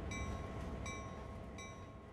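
Locomotive rolling in Train Sim World 2, a steady rumbling wheel-on-rail drone with a faint recurring high ringing tone, continuous and close, with no talk.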